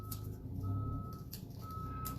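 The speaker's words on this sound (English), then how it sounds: "There's a caterpillar bulldozer right outside my window." Steady electronic reversing beeps from a Caterpillar bulldozer, repeating in a regular rhythm over a low engine rumble, moderately loud and nearby.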